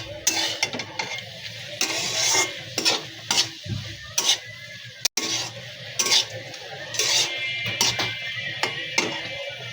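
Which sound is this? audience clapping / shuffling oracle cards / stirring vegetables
stirring vegetables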